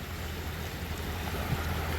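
Water of a small river near Siliguri, a low, steady wash of flowing water with a rumbling low hum and some wind buffeting, fairly quiet and continuous, no talking.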